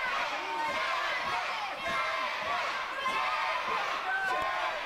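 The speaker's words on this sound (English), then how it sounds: "the crowd getting on Barratt's case again" A wrestling crowd at a W3L indoor show jeers wrestler Blondie Barratt with a sustained, steady roar of boos and shouts. A commentator talks over the noise.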